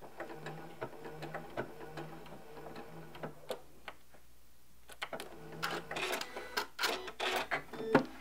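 A Janome M17 sewing machine ticks and clatters through a decorative stitch, starting with a steady mechanical hum and light ticking, pausing briefly, then resuming with louder, busier rapid clicks, recorded close by.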